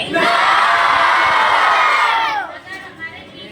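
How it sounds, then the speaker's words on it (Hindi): A group of children shout loudly together in reply, a sustained burst of many voices that drops off toward the end into quieter murmurs. "जोर से चिल्ला के क्या कहोगे?"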